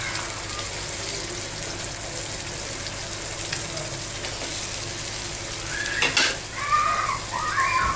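Fried chicken pieces for Kolkata-style chicken chaap tipped into a hot pan, giving a steady close sizzle with light stirring and pan clatter, a brighter burst of frying noise near the end.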